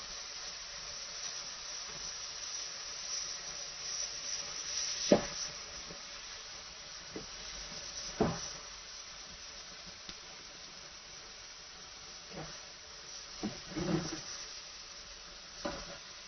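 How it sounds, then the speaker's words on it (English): Bean curd and cabbage frying in hot oil, a soft continuous sizzle with occasional louder spits and stirring scrapes, fairly quiet and without voices. "The oil is already heated up, so you put this in."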